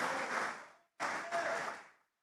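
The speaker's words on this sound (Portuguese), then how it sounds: "Podem aplaudir o Senhor" Congregation applause at a Sunday morning church service, two short bursts of crowd clapping separated by a sudden cut, moderately loud and then ending abruptly.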